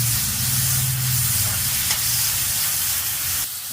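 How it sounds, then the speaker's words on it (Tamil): Ginger garlic paste, curry leaves and coriander sautéing with green chillies in hot oil, a steady close sizzle and hiss throughout with a faint stirring rhythm, no voices. "போட்டு நல்லா வதக்கிடணும். வதக்கிட்டு இஞ்சி பூண்டு பேஸ்ட்டு போடணும்."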